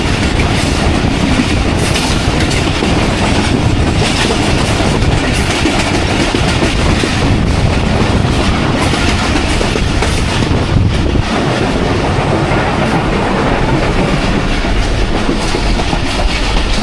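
The Rehman Baba Express passenger train passes through Kaluwal station at close range, loud and continuous, with rumbling wagons and steady clickety-clack from the wheels on the rails.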